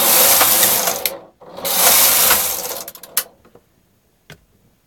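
Two loud, close passes of a Silver Reed knitting machine carriage knitting tuck stitch rows, each a rattling mechanical whirr ending in a clack, followed by near quiet with a few faint clicks and one sharp knock.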